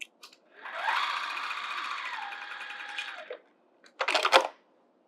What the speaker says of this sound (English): Let's sew that outer edge first.